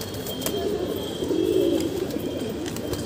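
A pigeon coos in a low, steady murmur through the whole stretch, close by, with a few faint chirps and small rustles around it and no voices.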